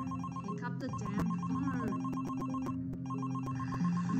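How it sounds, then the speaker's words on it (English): A triangular-shaped telephone ringing in a cartoon, a repeating electronic ring pattern that keeps going unanswered over background music and sound effects. "Calling Grandpa on the triangular shaped phone? Pick up the damn"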